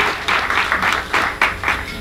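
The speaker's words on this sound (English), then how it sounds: "So let's give her a round of applause." A live audience at a faith-based women's weekend event bursts into brief, lively applause, dense clapping that rises and falls in quick waves.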